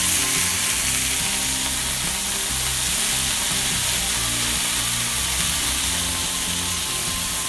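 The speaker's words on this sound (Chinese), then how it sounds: "用这种铸铁锅把肉煎的啊，像这样子" Pork shoulder searing in a hot cast iron pan with a little oil, a loud, dense, unbroken sizzle held close for over seven seconds, with no voices.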